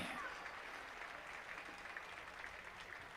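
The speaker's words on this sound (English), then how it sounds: "let's give all these brave men and women a huge bulldog round of applause to thank them for the service to our country" Service members are applauded by the crowd at a high school football game, a steady, distant wash of clapping that holds evenly for a few seconds.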